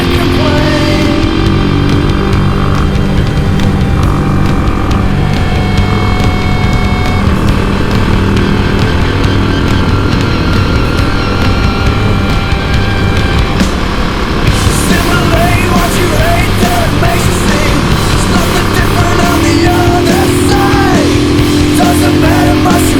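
A Yamaha SR400 single-cylinder motorcycle engine runs loudly and continuously while riding, its throttle rising and falling, with wind noise throughout.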